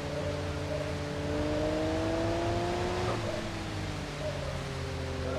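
A car engine drives steadily on an icy track in BeamNG.Drive, a continuous loud hum whose rising tones dip and shift partway through, set against a constant noisy rush with no talking.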